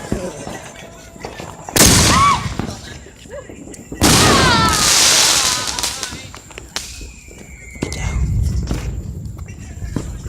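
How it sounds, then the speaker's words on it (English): Loud firework bangs burst twice at close range, each followed by crackling and hissing tails, with quieter crackles near the end, at an outdoor fireworks display. "That was one firework."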